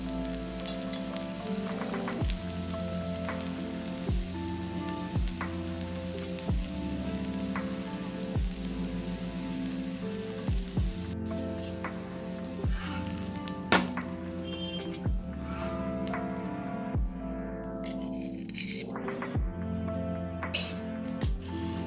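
Adai dosa, made with leftover idli batter, sizzles steadily in oil on a pan after being flipped, a continuous close frying hiss broken by regular faint clicks.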